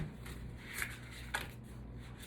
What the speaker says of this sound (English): I don't know if I'm gonna be able to do how I normally want to shuffle.